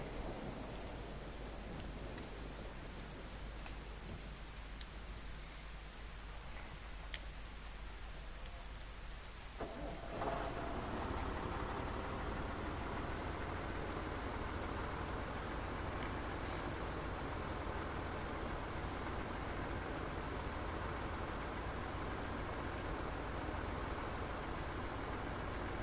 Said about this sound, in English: the noise of this rain right now is too loud for me